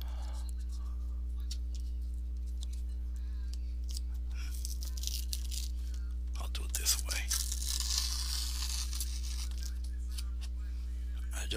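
Close crinkling and tearing of tape being carefully peeled off a painting, with a sharper ripping burst near the end over a steady electrical hum and soft whispered talk.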